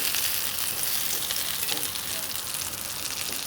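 Homemade köfte meatballs fry in a pan with a loud, steady sizzle and crackle, close up and constant throughout, with no voices.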